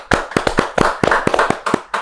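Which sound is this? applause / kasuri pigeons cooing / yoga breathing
applause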